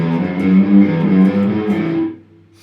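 A clean electric guitar plays a short rising run of low notes that ring together, then fades out near the end with no voices.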